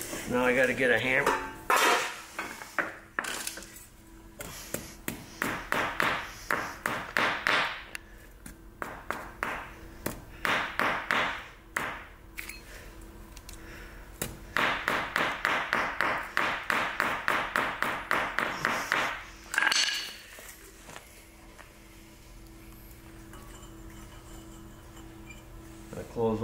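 Repeated metallic taps ring out in quick bursts and rhythmic runs as a hammer strikes the damaged blower screen of a 1961 David Bradley engine, with pauses between sets.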